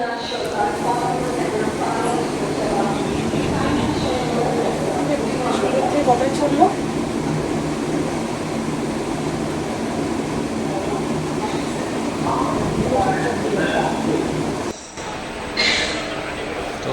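Inside a newly introduced passenger train in motion, a steady rumble of wheels and carriage noise runs continuously. Voices murmur underneath, and the sound briefly dips near the end.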